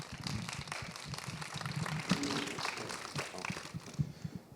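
An audience at a roundtable at the FEMI Arab Film Festival applauds a guest, a steady wash of many hands clapping at moderate distance, with a few louder claps standing out near the end.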